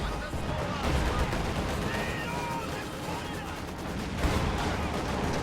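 High explosive artillery barrage in a World War II strategy game, a continuous rumble of blasts and gunfire layered densely, with a louder surge near the end.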